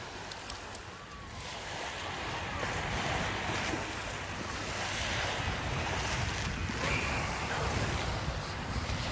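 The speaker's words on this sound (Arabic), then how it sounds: "سامع انت صوت البحر اللي ورايا ده؟" Sea waves roll and wash nearby with buffeting wind over the microphone, a loud continuous surf roar filling the scene, no voices heard.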